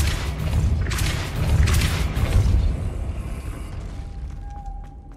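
A Depulso spell effect in a video game: a loud, sustained blast with booming thumps and mechanical creaks, swelling then fading over several seconds, with a thin high tone near the end.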